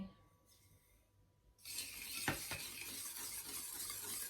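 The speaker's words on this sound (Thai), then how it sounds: "ตีไข่กับน้ำตาลทรายให้ละลาย" Eggs are whisked with sugar in a bowl for a rice-cooker banana cake. After a quiet start, a steady close scraping and swishing sets in, broken by one sharp knock against the bowl.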